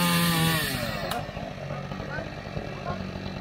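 Small pruning chainsaw cutting wood during volunteer work amid Australian forest fires, a loud close buzzing engine that drops in pitch as it bites into the wood, then keeps running steadily.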